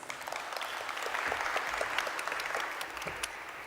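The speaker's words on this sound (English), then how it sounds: "We can give her a round of applause." A conference audience applauds a speaker being called to the podium, a steady wash of many hands clapping at moderate volume that holds throughout without talk.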